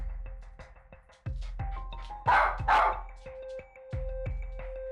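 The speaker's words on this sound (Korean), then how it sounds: "설수레이너가 다가가자 짖음이 점점 잦아드는데요." An excited, agitated small dog barks in repeated sharp bursts at close range, the barks coming in an irregular rhythm with brief pauses, alongside some background noise indoors.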